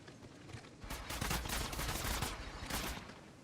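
Automatic gunfire in a mobile shooter game played on a Poco X3 Pro, a rapid burst of shots running for a couple of seconds at moderate level.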